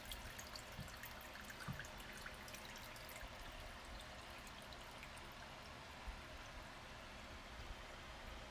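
Water is poured into a baking tray to make a water bath for flan, a steady close trickle and splash running continuously without any talk.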